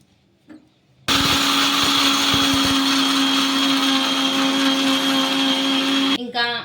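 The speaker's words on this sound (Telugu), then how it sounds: "ఇప్పుడు మూత పట్టేసుకొని మెత్తగా మిక్సీ అయితే పట్టేసుకుందాం" A kitchen mixer grinder grinds roasted peanuts, a loud, steady whirring drone that starts abruptly and holds for about five seconds before cutting off, with brief clatter before and after.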